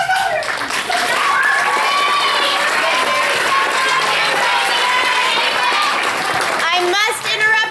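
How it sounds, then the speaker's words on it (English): Theater audience at a school stage production of The Wizard of Oz, screaming and yelling loudly and continuously, with voices and cheering blending into a dense crowd roar throughout. "remind the audience that screaming and yelling is not an appropriate response at a theater"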